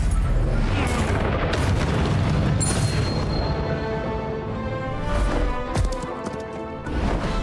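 Dense booming blasts and bursts from explosive spells in a wizard-duel video game battle, loud and continuous with repeated heavy thuds and crackling debris, no talk.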